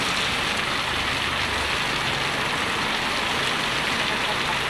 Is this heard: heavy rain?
yes